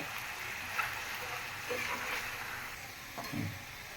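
Rice fried together with shrimp and meat in one pan, a steady hissing sizzle with occasional stirring scrapes, close but fairly quiet, no talking.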